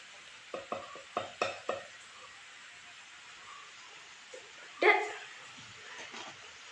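Stirring onion and Kashmiri chili powder masala in a pan for an egg roast, a run of soft rhythmic scrapes followed by a louder scrape, over a faint steady sizzle.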